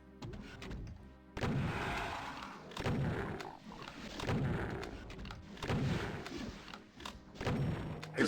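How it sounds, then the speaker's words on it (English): Shotgun blasts from an enemy in Doom II: repeated heavy booming shots, roughly every second, each with a thudding punch and a short decay, fairly loud over a quiet game background. "that shotgun dude is doing some damage from that distance"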